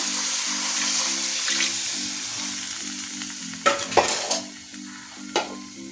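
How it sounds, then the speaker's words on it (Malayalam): Strained tamarind water meets a hot pan of chillies for a spicy Kerala thodukari, a steady sizzle under a pulsing low background hum, with a few sharp clatters and splashes near the end. "അതൊന്ന് അരിച്ചെടുത്ത് ഞാൻ ഇതിലേക്ക് ഒഴിച്ചു കൊടുക്കുന്നുണ്ട്"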